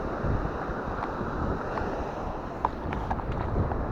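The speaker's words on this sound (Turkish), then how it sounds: "rüzgar ve dalga bayağı bir çıktı arkadaşlar" From a fishing boat off Mersin, wind hisses steadily over the water with waves washing around the hull, a moderate, continuous rush marked by a few faint knocks and clicks.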